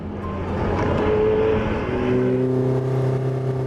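High-performance sports car accelerating hard, engine note rising steadily in pitch as it revs through the gears, loud and close with a continuous roar.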